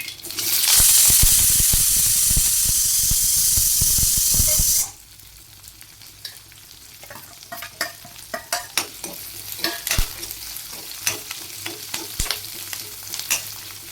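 Mustard seeds, chopped big onions and curry leaves dropped into hot oil in a pan, giving a loud burst of sizzling and hissing that drops suddenly into softer frying crackle with scattered pops and stirring.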